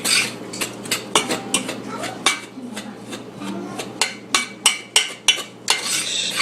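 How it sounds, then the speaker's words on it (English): A spoon scraping and clinking against a bowl while stirring chocolate pie filling of cocoa and sugar, a run of sharp, close taps and scrapes in an irregular rhythm, with a faint low hum underneath. "Stir that up together."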